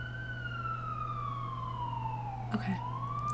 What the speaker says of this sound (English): Really, these sirens are still going on.